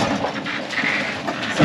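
A 12-metre sailboat's hull slams hard into waves at sea under sail, a loud, dense broadband crash and rush that holds steady and surges again at the end.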